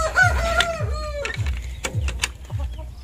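Basilan chickens, a Japanese Shamo crossbreed, cluck and crow nearby in a short run of calls over steady low farmyard rumble, with several sharp bursts spaced across the scene.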